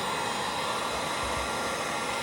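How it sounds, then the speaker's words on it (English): Heat gun blowing on car paint to lift adhesive residue from an Infiniti G35, a steady, close, breathy whoosh of hot air that holds level throughout, with no voices. "these heat guns will do more damage than you think"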